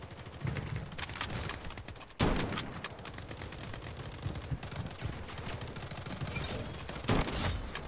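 An M700 sniper rifle fires in the Blood Strike shooter game, with two loud, sharp cracks standing out over a continuous din of distant gunfire.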